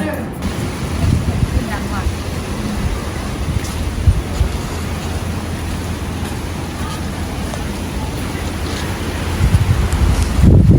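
Sea wind on a quiet beach by a beachfront hotel in Rayong, Thailand, roars steadily across the microphone with a low rumble of surf, while a voice is faintly present beneath it.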